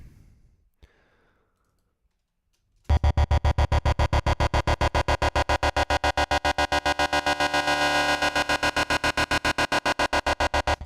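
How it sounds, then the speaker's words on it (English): A harsh, buzzy saw tone from Bitwig's Phase-4 synthesizer pulses in a rapid rhythmic gate after a brief near-silent start, loud and bright, swelling and thinning as a filter sweeps. "this does sound like a really crazy, harsh saw"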